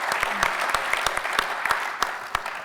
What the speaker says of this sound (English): I think it's deserving of a big round of applause on that.